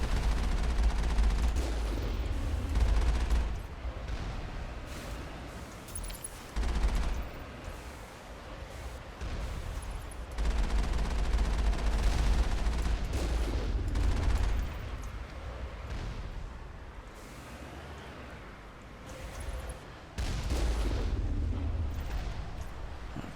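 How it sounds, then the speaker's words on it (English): Enemy turret gunfire in Mass Effect, a dense, sustained barrage of rapid shots and booming impacts that rises and falls in waves across the whole stretch, loud and continuous with no talk. "Oh, they got turrets."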